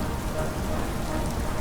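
Steady rain and thunderstorm effect from an audio drama scene on a rope bridge, a dense continuous hiss of rainfall on surfaces with low rumbling underneath, loud and even throughout with no voices.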